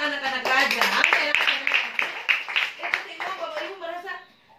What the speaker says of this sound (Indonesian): Tepuk tangan anak-anak raja.